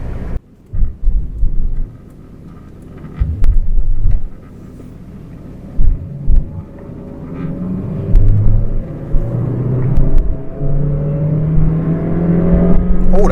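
A cheap used £400 car is driven hard along a road, with a loud engine rumbling and revving through bursts of acceleration and a rising drone toward the end, punctuated by bumps and wind noise.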